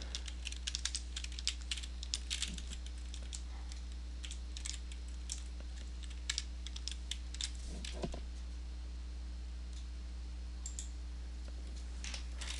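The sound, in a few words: typing on a computer keyboard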